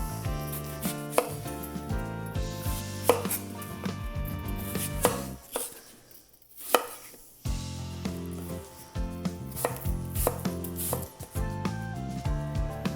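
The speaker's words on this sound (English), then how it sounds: "I can now go ahead and chop these up." A knife chopping apples on a cutting board in quick, uneven bursts, with a short pause partway through, close up and clear, no voices.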